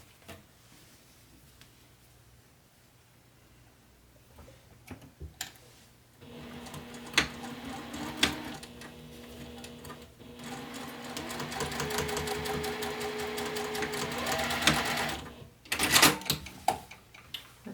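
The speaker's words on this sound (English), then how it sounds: "now I'm actually going to sew this seam at a 1/2 of an inch seam allowance" A sewing machine stitches a seam on a bag at half-inch allowance, starting after several quiet seconds with a few clicks, then running in rapid steady bursts with a brief pause before stopping.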